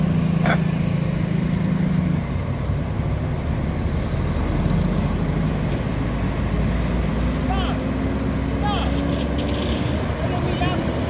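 A bus passing and overtaking another bus on an Indonesian road, a loud engine roar and rumble with tyre noise that swells and fades, close by throughout, while a voice talks over it.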